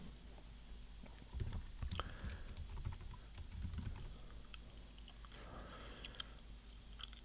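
Soft, wet gum chewing close to the mic during whispered ASMR while Magic: The Gathering collector booster packs are opened, with irregular small clicks and crinkles over a quiet background.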